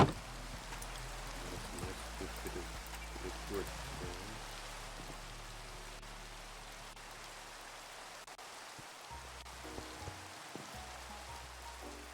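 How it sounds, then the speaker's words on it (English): Steady rain falls in the video game Minecraft, a soft continuous patter under low game tones and faint background hum, with no clear voices over it. "this rain. This rain gonna stop."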